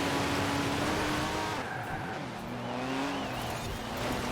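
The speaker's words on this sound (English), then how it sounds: "we're racing a Carrera GT in a dirt racing series event" A Porsche Carrera GT racing a dirt event in Forza Horizon 4, its engine roaring loud and close with rising revs, gear changes and squealing, skidding tyres throughout.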